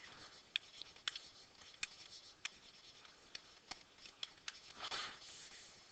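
Pen or marker strokes scratching across paper during algebra notes, a series of short, faint ticks and rubs at an uneven rhythm, close and quiet with no talking.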